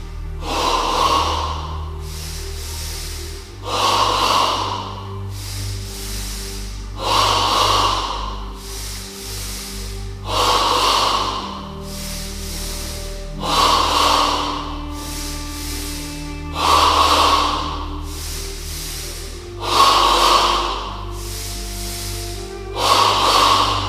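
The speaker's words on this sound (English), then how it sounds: "Now in stage 2 of double breathing, the breath moves from the abdomen to the chest." Yoga double breathing exercise, second stage, drawing breath from the abdomen up into the chest: eight slow, loud breath cycles with audible airy inhales and exhales, evenly paced over a steady low background hum, no talking.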